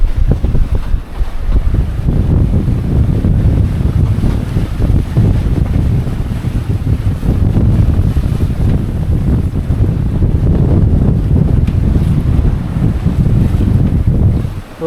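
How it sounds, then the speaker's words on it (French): Strong wind buffets a sailboat off the north of Euboea in Greece, roaring steadily and close into the microphone, with waves and rushing water underneath and no voices. "Oh bah il y a du vent"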